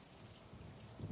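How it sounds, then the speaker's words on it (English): Rain in the airport-management video game Airport CEO, a soft, continuous wash of falling rain with a low rumble swelling near the end, heard alone. "Oh, look at that. It's raining."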